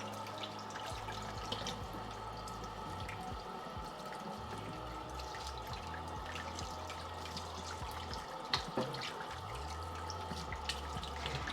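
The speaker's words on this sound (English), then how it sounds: "Wash my hands, wash my knife." Running tap water splashes steadily into a sink as hands and a kitchen knife are rinsed, a continuous close rush with the flow shifting as things pass under it, and no talking.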